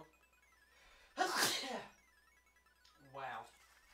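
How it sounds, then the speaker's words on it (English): A person gives one sharp, loud sneeze up close, and a shorter vocal burst follows about two seconds later, both over a quiet indoor background. "I just sneezed on video."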